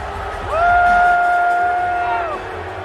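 A wrestling crowd at the Forbidden Door event cheers and boos from a played recording. A single drawn-out voice holds a loud note for about two seconds over a steady crowd roar.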